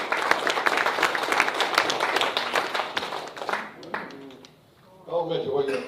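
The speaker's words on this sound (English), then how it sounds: "So let's give him one more round of applause." A round of applause at a city council meeting for honoree Corbin Chasen, brisk clapping from a small room that fades after a few seconds, followed by a person starting to talk.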